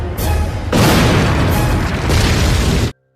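A loud, sustained explosion rumble from a bomb planted behind an oil tanker truck in a war film, with booming bursts layered over each other, filling nearly three seconds before cutting off abruptly.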